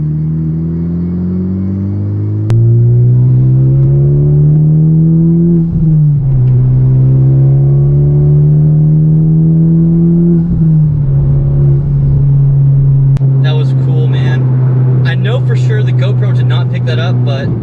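A Honda Civic Type R FK8 engine revs steadily under acceleration, its pitch climbing and then dropping sharply at each shift, while a person talks over the loud, close cabin drone.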